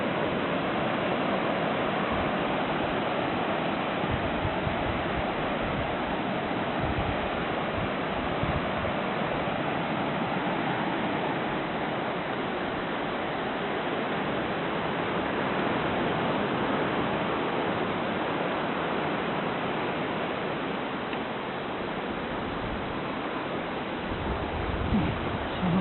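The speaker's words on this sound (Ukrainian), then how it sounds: "Море шумить дуже гарно." Continuous broadband roar of sea surf washing in, steady and full throughout with no voices.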